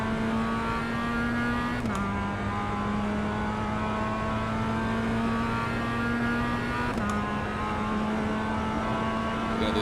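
Race car engine in the iRacing sim, a steady loud mid-pitched drone held at full throttle for about ten seconds, with two brief shift dips where the pitch drops and climbs again.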